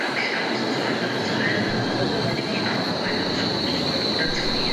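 Hamburg U3 subway train running through an open cutting between Feldstraße and Sternschanze, a steady dense rumble and hiss of wheels on rail with a faint high whine, continuous and close throughout.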